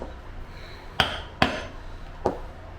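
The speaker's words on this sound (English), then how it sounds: "I'm going to punch it, and I'm going to get it through this layer and the tan layers" Metal hole punch hammered through layers of leather, three sharp, close strikes spaced unevenly over a few seconds against a quiet background.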